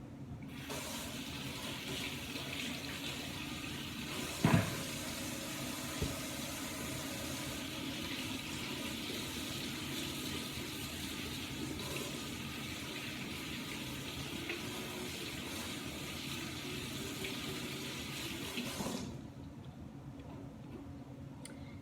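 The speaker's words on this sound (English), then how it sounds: "I'm gonna wash this off as well while I'm over here at the sink." A kitchen tap runs into the sink while celery is washed, a soft, continuous rush of water lasting most of the stretch before cutting off near the end, with a single sharp knock early on.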